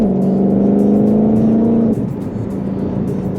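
A Ford Mustang Shelby GT500 engine pulls hard under acceleration, its tone climbing steadily, then drops briefly as a gear is short-shifted and resumes at a lower pitch, loud and close from inside the car.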